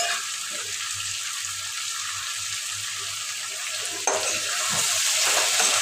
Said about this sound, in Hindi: देखिए अब मैं दाल छौंक रही हूँ, देखिए चने की दाल,